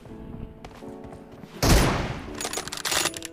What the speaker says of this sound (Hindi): ओपी शॉट्स मार रही है यार, बहुत खतरी वाले शॉट्स मारती है